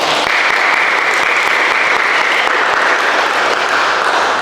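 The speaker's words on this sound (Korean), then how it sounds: "박수로 환영해 주시기 바랍니다." A church congregation at a Korean Sunday worship service applauds in a loud, close, continuous wash of clapping that holds steady throughout.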